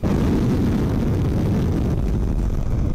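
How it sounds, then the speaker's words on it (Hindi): A loud, sustained roaring blast from a rocket strike on a Ukrainian city, with heavy low rumble that holds steady for a few seconds before cutting off. "फिर जोरदार धमाका सुनाई दिया"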